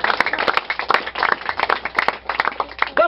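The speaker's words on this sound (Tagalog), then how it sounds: "Makusog ang palakpak para sa Dios mga ikson." A congregation claps during an evangelist's sermon, with rapid, uneven hand claps from a group in a fairly close, lively burst that rises and falls throughout.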